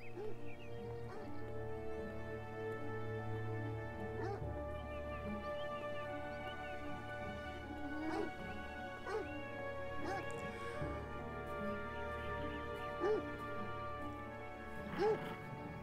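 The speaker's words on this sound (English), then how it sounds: "Oh, there's another dog." A dog barks and whimpers in the video game Beyond Eyes, several sharp yips and barks over a sustained musical backdrop, with someone talking at times.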